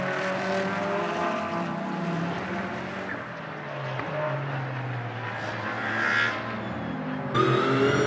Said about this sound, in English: There's the 23 Nissan GTR Nismo